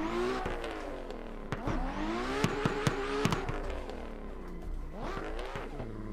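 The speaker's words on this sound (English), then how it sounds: "This Kevin Lawrence Injuku Racing S14, though, putting in work on the track right now for sure" In Assetto Corsa, the Kevin Lawrence Injuku Racing S14 drifts with its engine revving up and down in repeated swells, punctuated by sharp knocks and bangs.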